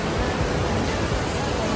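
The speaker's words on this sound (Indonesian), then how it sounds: "Ombaknya gede banget loh kalau di sini." Big ocean waves at Watu Karung beach in Pacitan make a continuous broad roar of surf, steady and loud, with faint voices in the background.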